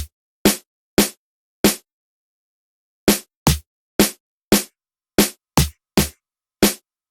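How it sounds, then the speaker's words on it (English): Programmed snare drum pattern in FL Studio, from an Afrobeats remake: a dozen sharp, dry electronic snare hits with quick decays, in an uneven syncopated rhythm with a gap in the middle, alone and close. "the other snare we have on that pattern of snare sounds like this."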